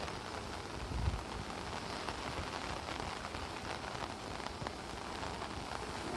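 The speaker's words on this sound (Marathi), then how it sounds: "आणि अजून पाऊस चालूच आहे" Heavy monsoon rain pours steadily and densely over fields and a rural village, a continuous even hiss of drops striking the ground and surfaces, moderately loud and unbroken throughout.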